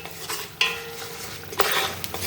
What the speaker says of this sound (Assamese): এতিয়া মই এইখিনি ভাজি দিছোঁ।